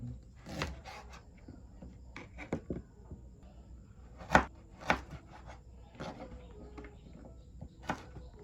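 Ginger being chopped on a cutting board for chicken pastil: irregular, close knife taps, a few landing noticeably harder, with quiet pauses between bursts.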